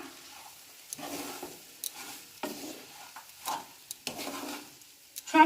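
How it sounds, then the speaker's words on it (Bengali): Fried semolina being stirred through potato and cauliflower in a pan, a soft scraping swirl with intermittent spoon knocks against the metal and a faint sizzle underneath, close and fairly quiet, with no talking. "সুজিগুলো দিয়ে একটু নাড়াচাড়া করতে হবে।"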